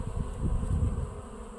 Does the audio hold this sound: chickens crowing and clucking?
no